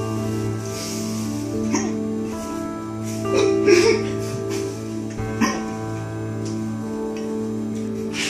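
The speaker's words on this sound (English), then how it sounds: "hiccups go away." A person hiccups a few times at close range, short voiced catches amid quiet background, after a meal of habanero peppers, beer and pig feet stew.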